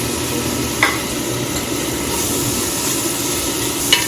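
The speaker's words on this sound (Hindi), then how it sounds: "जब आपको लगे कि मसाला अच्छी तरह भुन गया" Masala spices with turmeric frying in a pot for South Indian sambar, a steady sizzle with a couple of brief scraping stirs, close and alone without talk.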